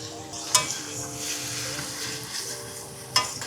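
Sliced peppers and onions drop into a hot pan and sizzle steadily, close by, with two sharp clinks of a utensil against the pan and a constant frying hiss throughout.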